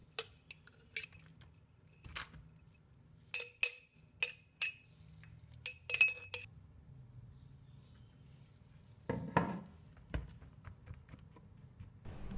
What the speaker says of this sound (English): we begin transferring the mycelium from the jars into the container using the previously disinfected spoon